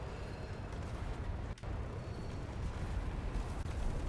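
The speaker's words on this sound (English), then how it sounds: "There's just a lot of explosions happening." Explosions tear through a ship battle in the video game Space Engineers, forming a dense, continuous rumbling roar with one brief dip, fairly quiet overall and with no talk.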